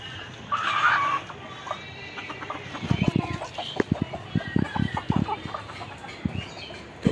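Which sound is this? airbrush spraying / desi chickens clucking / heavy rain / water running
desi chickens clucking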